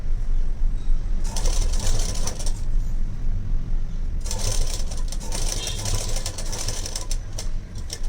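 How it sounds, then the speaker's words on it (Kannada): Sewing machine stitching along the edge of a blouse lining, running in two sustained whirring bursts with a quiet pause between them. "ನೋಡಿ ಈ ರೀತಿ ನೀಟಾಗಿ ಎಡ್ಜಿಗೆ ಸ್ಟಿಚ್ ಹಾಕ್ಕೊಳ್ಳಿ"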